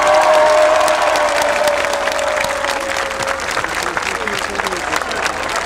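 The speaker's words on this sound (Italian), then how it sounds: "Se vi è piaciuto il numero 3, applauso" Loud, sustained audience applause with some cheering rises for the third contestant at a live comedy show in Brindisi. A whistle-like tone rides over the clapping at the start, then the sound settles into a steady wash.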